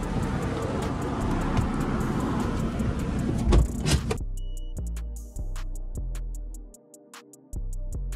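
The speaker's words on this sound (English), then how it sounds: "There's already quite a few cars out here." Morning road traffic with cars passing nearby, a loud rushing drone that swells and then cuts to quieter steady engine hum with faint tonal whine, no talk heard.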